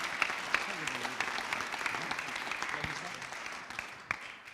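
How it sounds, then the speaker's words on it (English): An audience at an aviation innovation Dragons' Den style startup pitch event claps for the panel of judges, a dense, steady burst of applause heard close, with a few sharper individual claps standing out. "let's just have a round of applause for our dragons first of all"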